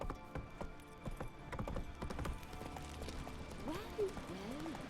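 A horse gallops in a video game with rapid, steady clip-clop hoofbeats, a short whinny and talk over the top, all fairly quiet.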